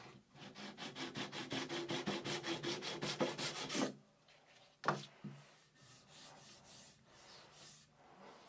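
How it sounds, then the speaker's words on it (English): Rhythmic back-and-forth sanding of a guitar fingerboard with 240-grit sandpaper, steady strokes for several seconds, then a pause and a few lighter, scattered rubs. "get them flush to the fingerboard, but just with using 240 grit sanding paper"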